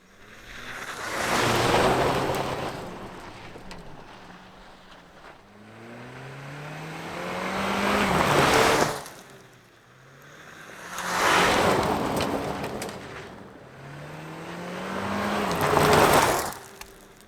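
A 2025 Toyota Tacoma Trailhunter and TRD Off-Road are driven under throttle at about 30 mph. Loud engine notes climb in pitch across four swelling passes with road and wind rush, and no one speaks.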